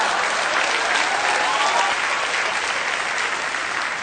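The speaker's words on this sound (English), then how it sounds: "Guys, get a nice round of applause." A studio audience at a comedy show applauds two guests from the auto show, a thick, continuous roar of clapping that holds steady and full throughout with no break.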